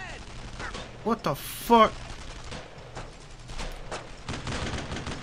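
Gunfire in the video game Brothers in Arms: Road to Hill 30, with short bursts and scattered shots at moderate level, a person exclaiming over the firing.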